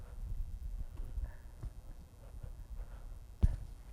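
A horse pulling a forecart clops along at a steady walk, hooves thudding low and muffled against a soft rumbling background, with one sharper knock near the end.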